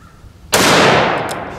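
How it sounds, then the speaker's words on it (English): A Ruger M77 bolt-action rifle in .243 firing at a target, heard as one sharp, loud, close report with a brief decaying tail rather than three separate shots. "I'm just going to fire 3 shots with the 4064 load at that top middle target"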